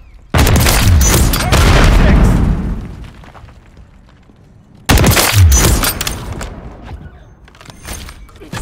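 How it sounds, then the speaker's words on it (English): A grenade blows up in a Call of Duty match, a loud booming blast with rumbling debris that fades out, then a second heavy explosion follows a few seconds later, with faint game chatter. "Grenade!"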